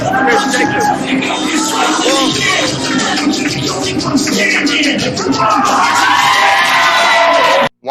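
A wrestling crowd at a GIPW show roars with loud cheering, whoops and shouts, sustained and close, cutting off abruptly at the end.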